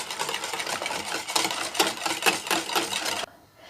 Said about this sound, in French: petit à petit, je l'incorpore à mon mélange d'huile et d'œuf